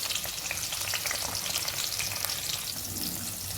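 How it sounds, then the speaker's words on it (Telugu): Shrimp frying in hot oil in a pan for a prawn and ridge gourd curry, giving a loud, dense, steady sizzle with no pauses and no voices. "ఆయిల్ హీట్ అయిన తర్వాత ఈ రొయ్యలు అయితే ఇందులో వేసేసుకొని మంచిగా వేయించుకోవాలి."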